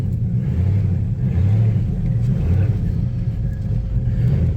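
1998 TVR Chimaera 500 accelerating along a drive, a steady loud low engine rumble from inside the car with a few swells as revs rise, no talking.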